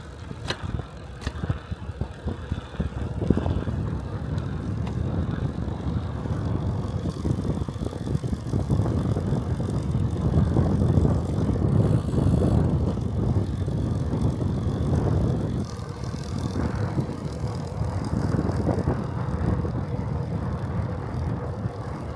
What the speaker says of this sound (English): see if I can get some sounds of the chain on the bike